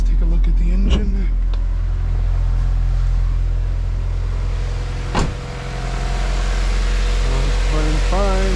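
A Type R-swapped Honda Civic EG8 engine idles steadily with a low, even rumble, close by, running healthy, with a brief click and a whirring sound near the end.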